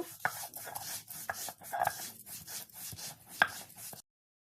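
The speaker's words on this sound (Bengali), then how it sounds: "এখন ফটাফট চিংড়ি মাছগুলিকে একটু বেটে নেব" Fried shrimp being ground into paste by hand, a series of sharp, irregular scraping and knocking strokes, close and fairly loud, with no talking.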